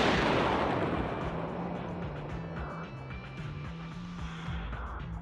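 A loud explosion booms at the start in Genshin Impact, then rumbles and fades slowly over a low musical drone.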